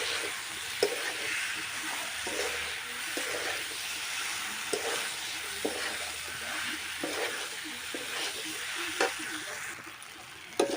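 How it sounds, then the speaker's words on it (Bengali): Boiled pumpkin and jackfruit sauté in a pan, a soft continuous sizzle under regular scrapes and taps of a spoon stirring, close by and fairly quiet. "এবারে আমি কষাতে থাকবো।"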